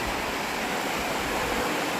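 The Borjomi mountain stream in Georgia rushes steadily with a dense, close, unbroken watery hiss and no voices.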